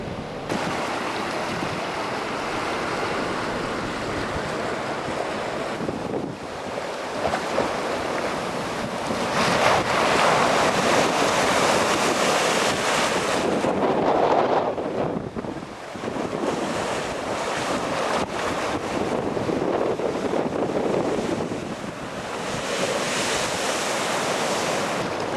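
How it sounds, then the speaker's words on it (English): Heavy ocean surf from Hurricane Dennis near Pensacola and Santa Rosa Island, with wind buffeting the microphone. A loud, continuous roar surges and dips as waves crash repeatedly, and no voices are heard. "there was little wind, but the waves were quite impressive"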